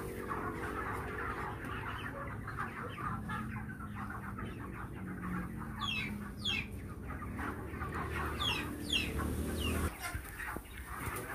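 Chickens being caught for sale at a market cluck and squawk continuously in a noisy crowd, with sharp agitated calls rising over the din.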